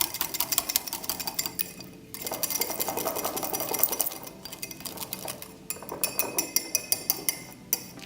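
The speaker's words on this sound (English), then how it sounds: "let's just continue to whisk it up there" Body butter being whisked by hand in a bowl after cooling in an ice bath, a steady rapid scraping and clinking of the whisk against the bowl that pauses briefly twice, close and moderately loud with no talking.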